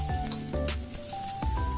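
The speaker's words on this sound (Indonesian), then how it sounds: "Lanjut goreng bawang merah sama bawang putih." Chopped shallots and garlic fry in a pan for mie goreng, giving a steady soft sizzle with a tonal melody running over it.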